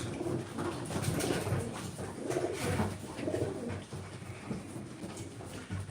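Pigeons in a loft coo repeatedly, soft rolling calls layered over one another against a busy background of other birds.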